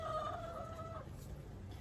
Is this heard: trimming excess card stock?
no